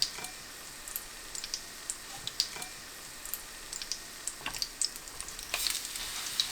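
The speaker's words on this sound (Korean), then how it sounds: "약불로 줄인 뒤 병아리콩 반죽 있는 쪽에만 계란을 묻혀서 프라이팬에 구워냅니다." Egg-coated shiitake mushrooms with chickpea filling pan-frying in oil over low heat, a soft steady sizzle with scattered crisp pops and ticks, close and fairly quiet.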